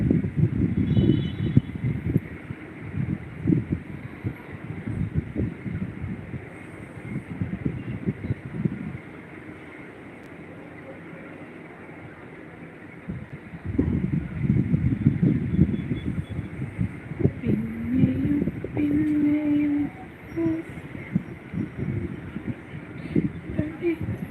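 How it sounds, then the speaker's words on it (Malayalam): Gusts of wind buffet the microphone in rumbling waves, easing off for a few seconds before picking up again; a voice talks briefly toward the end. "നല്ല കാറ്റ് വരുന്നു തണുവ് കാറ്റ് മഴ വരുമോ"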